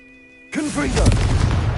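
A Confringo fire spell in Hogwarts Legacy erupts as a sudden loud blast after a steady tone, followed by a dense, roaring burst of energy with a voice shouting over it.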